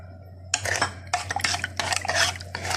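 Spoon stirring a custard mix of sugar, custard powder and starch in a bowl, quick scraping and clinking bursts in uneven rhythm, close and clear.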